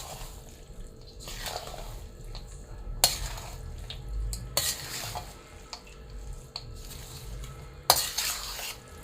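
A spoon scrapes and clatters in a pan as a special spice masala is stirred into a warm adadiya mixture. Intermittent sharp clinks stand out over a low background rumble, with no talking.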